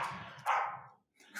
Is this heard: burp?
no